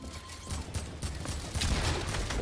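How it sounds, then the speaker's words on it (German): Rapid bursts of AK assault rifle gunfire in a first-person shooter game, a dense crackling fusillade of repeated shots running through the clip at moderate loudness with game noise beneath. "die blaue AK hört sich jetzt gerade so an wie die lilane oder wie die goldene AK"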